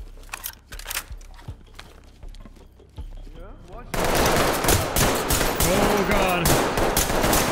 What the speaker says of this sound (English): they're getting shot at from the other side of the map.